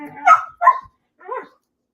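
Dogs barking indoors, three sharp barks in quick succession, loud and close, with a brief whimpering quality on the last.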